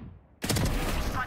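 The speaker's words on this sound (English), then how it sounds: "Swarm grenade out." A swarm grenade going off in a tactical shooter game, a sudden loud burst of rapid popping crackles that erupts after near silence and continues densely for about a second.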